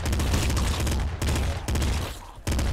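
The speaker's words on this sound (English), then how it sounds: "And the assault rifle dealing with these guys." Rapid bursts of assault rifle fire in the top-down roguelike shooter Nuclear Throne, loud and dense, broken by two brief pauses, with no talking over it.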